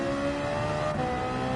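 Race car engine in Gran Turismo 7 holding a steady high rev just after an upshift, a loud close tonal drone with a faint tire note, no talking.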